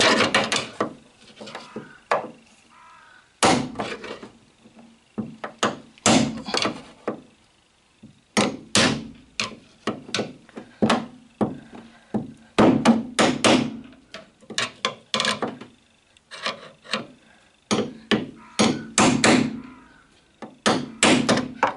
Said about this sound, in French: un marteau.